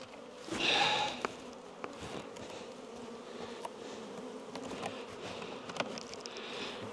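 Honey bees buzz steadily as a hive is split to prevent swarming, a constant low hum with an early louder burst and scattered clicks of frames and handling.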